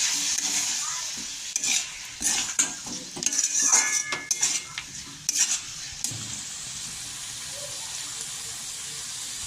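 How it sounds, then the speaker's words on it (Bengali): Masala being stirred and fried with a splash of water and potatoes in a pan, cooking down as the base for baim fish curry; steady sizzling with repeated spoon scrapes and clinks against the pan, no talk. "এখন আমি এখানে সামান্য পরিমাণে জল দিয়ে মশলাটাকে কষিয়ে নেব।"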